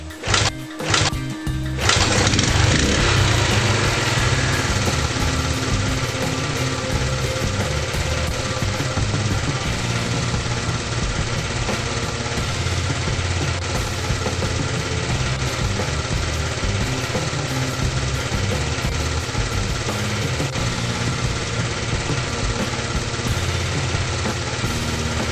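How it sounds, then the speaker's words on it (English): A motorcycle engine with a points ignition system fires up after a brief crank and settles into a steady, loud idle that runs close by for the rest of the clip. "Start the engine."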